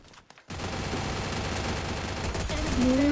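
Gunfire in a video game erupts after a brief quiet moment, a dense continuous burst of rapid shots that stays loud to the end, with a rising tone near the close.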